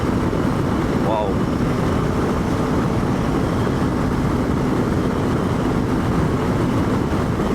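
KTM 390 Adventure motorcycle cruising at about 130 on the highway, a steady loud engine buzz blended with heavy wind roar, continuous and close.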